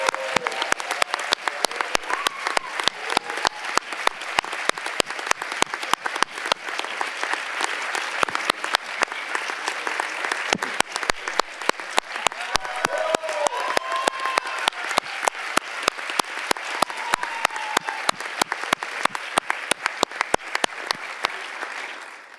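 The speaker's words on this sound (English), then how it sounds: "So I'd ask you to give her a very warm round of applause." An audience in a municipal theatre claps through a long, sustained round of applause at a summit, with many individual claps standing out over a steady, even crowd texture that carries on for over twenty seconds.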